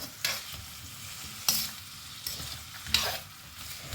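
Chow chow (chayote) peel frying in a pan, a soft continuous sizzle broken by four sharp scraping stirs at regular intervals.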